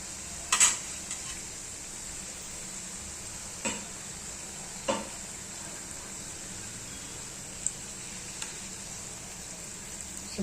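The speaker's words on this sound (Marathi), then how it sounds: "तेल तापलेले आहे तर हे अशी टाकून द्यायची आता ही पहा कशी छान तळते" Karanji pastries fry in hot oil with a steady, soft hiss of bubbling, broken by a few light clicks and taps from a utensil stirring the pan, without any talking.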